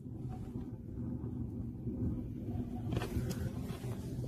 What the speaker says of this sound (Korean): 이게 지금 불타는 소리 들리시죠?